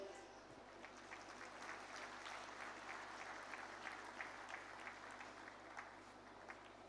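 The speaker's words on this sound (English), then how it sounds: "Let us all have a resounding of claps to mark this remarkable achievement." Audience applause at the inaugural session of the GMIS 2023 summit, a steady wash of many hands clapping throughout at a fairly faint, distant level with a low hum underneath.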